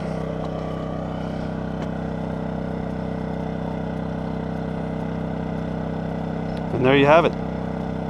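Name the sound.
DuroMax XP2000is inverter generator running at 50% load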